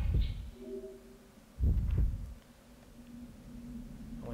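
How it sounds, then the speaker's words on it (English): Heartbeat effect in Project Zero 2: Wii Edition, low thudding beats in a slow, uneven pulse over a dim background hum, two heavy throbs standing out in the middle. "When we can hear our own heart."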